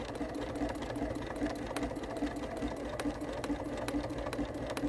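A sewing machine runs steadily while stitching a twin needle zigzag, its fast, even mechanical clatter close and continuous, with sharp regular ticks over a low motor hum and no speech.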